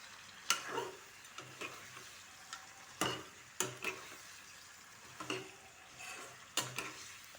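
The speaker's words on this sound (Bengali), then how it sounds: "ধুনীয়াকৈ এতিয়া আলু ভাজি ল'ম অলপমান।" Potatoes frying in a pan for a goat meat and yogurt curry, a quiet sizzle under sharp, irregular scraping clacks of a spoon stirring against the pan.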